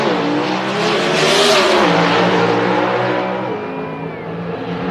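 NHRA Pro Stock drag race cars, including a black Pontiac, launch with a loud, roaring, high-revving engine blast that builds and then gradually fades into the distance.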